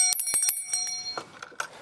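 A bicycle-style bell rings in quick bright dings to call backyard garden chickens to feeding time, several sharp strikes up close, followed by softer rustling and small movement sounds.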